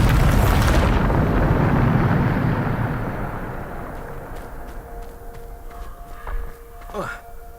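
A Bombarda spell explosion in the Hogwarts Legacy video game, a loud booming blast with a long rumbling decay, followed by faint game effects and a voice.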